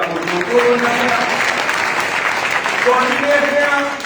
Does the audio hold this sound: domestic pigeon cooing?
no